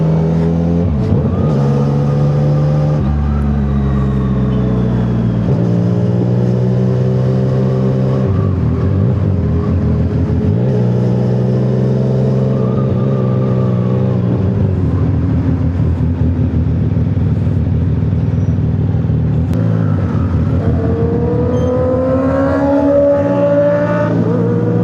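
A loud Yamaha R6 sports motorcycle engine revs repeatedly, pitch climbing and dropping through several throttle bursts, sustained and close throughout.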